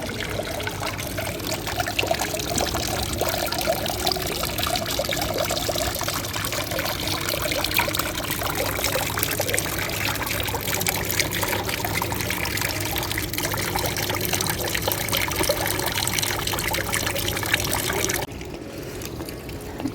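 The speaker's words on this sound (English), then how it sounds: "Alright, another water feature." An indoor water feature in a hotel lobby splashes and trickles steadily at close range, an even pouring wash that carries on for nearly the whole stretch before dropping off abruptly near the end.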